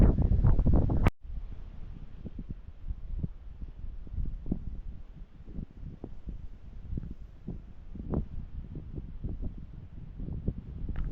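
Gusty wind buffets the microphone on an exposed mountain boardwalk near a bog, an uneven rumbling roar with irregular thumps, steady and close throughout with no talk.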